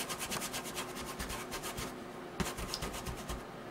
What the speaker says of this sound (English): we're gonna pick up driftwood. And we're gonna dry rub the center of the stones.